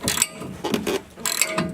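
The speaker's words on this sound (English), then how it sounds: "all I'm going to do is take this socket and ratchet, and in my case it is a 3/4. Put it on the bolt" Socket and 3/4 ratchet tightening a bolt on a car's control arm, heard up close as three short bursts of rapid clicking pawl ratchet strokes separated by brief pauses.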